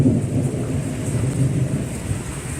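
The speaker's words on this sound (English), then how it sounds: "I really like the lightning and thunder though." Thunder rumbles low and steady through a storm with rain falling, a continuous deep roll with no talking.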